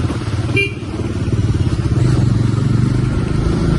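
A new KTM 390 (350cc) motorcycle rides through narrow city streets between houses, its engine giving a steady, loud, throbbing drone that rises slightly in level as it goes, with no talk over it.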